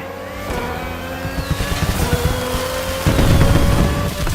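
Racing car in Crew Motorfest roaring as it accelerates, engine pitch climbing steadily with a gear change and a surge of louder revving near the end, close and loud with tire noise and no talk.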